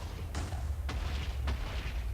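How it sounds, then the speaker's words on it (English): Muffled booms of TNT exploding upstairs in Minecraft on an FTB modpack server, three dull blasts roughly half a second apart over a constant low rumble, sounding distant and heavy with no voices. "Get to hear the explosions upstairs"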